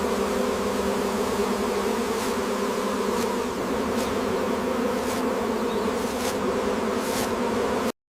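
Honey bees buzz in a steady, dense drone, loud and close, with no voices throughout.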